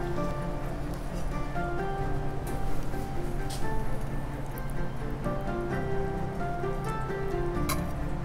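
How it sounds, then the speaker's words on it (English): Salmon tataki sizzles steadily in a restaurant kitchen, a continuous crackling hiss that holds for several seconds with faint clatter around it. "I can hear the sizzle, I can feel the sizzle"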